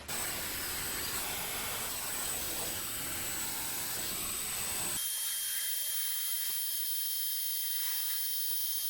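A GHD Duet hot air styler blowing on kinky 4C hair, a loud continuous close airflow roar that changes to a steadier, thinner whine partway through, with no talking.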